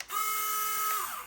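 The winch on a JJRC C8815 1:10 four-wheel-drive toy RC off-road car unwinds with a steady whining electric motor tone and a faint geared buzz, running close and continuously for about a second.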